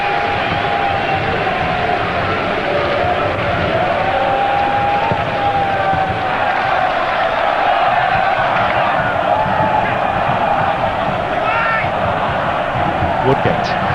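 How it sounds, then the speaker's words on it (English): Football stadium crowd during a Partizan Belgrade versus Leeds United match, a loud, continuous roar of many voices and scattered clapping after a goalkeeper's catch, with a commentator talking over it throughout. "Rapturous applause for Martin's catch."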